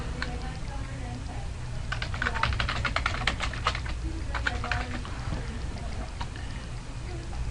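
Keystrokes on a computer keyboard tapping out text, a quick run of clicks in bursts with short pauses, close and clear over a low steady hum.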